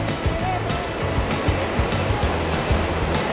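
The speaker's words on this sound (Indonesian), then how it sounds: "Ini sahabat air terjun yang dari sana atas kira-kira 15-an meter." A small waterfall about 15 meters high at Krueng Kaleung in Lamno, Aceh Jaya, giving a steady broadband rush of falling water with faint thumps over it, fairly close and continuous.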